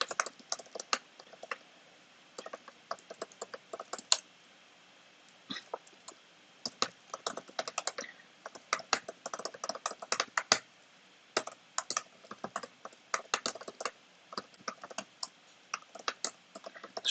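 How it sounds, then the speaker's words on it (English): Fingers type on a computer keyboard in quick, irregular bursts of crisp clicks and key taps, separated by short pauses, close and fairly quiet in an otherwise silent room. "Sorry if you can hear my keyboard typing."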